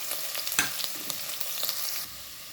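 Spices and ginger fry in a pan for country-chicken egg biryani, giving a soft, steady sizzle with a few light stirring scrapes, faint and close.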